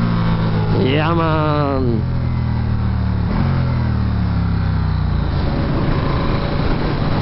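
A 2019 Ducati 1260S Diavel accelerates on a test ride, its engine rising in pitch through a quick rev and then holding a steady drone, heavy wind rumble throughout, with someone speaking briefly over it.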